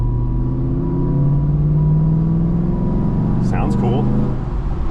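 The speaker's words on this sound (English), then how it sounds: "we're gonna go on this test drive real quick, like backing out the auto" A pickup truck with a freshly swapped 9.5-inch 14-bolt six-lug rear axle drives on a test run, giving a steady, loud engine and drivetrain drone that rises slightly, with brief voices near the end.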